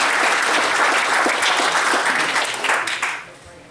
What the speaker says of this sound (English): Please join me in a round of applause for all the employees of this organization.